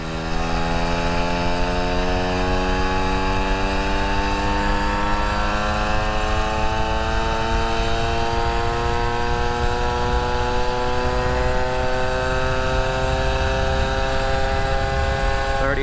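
Vespa Ciao moped with a new DR kit engine riding at steady speed, a loud continuous buzzing two-stroke drone whose pitch slowly climbs as the revs keep pulling.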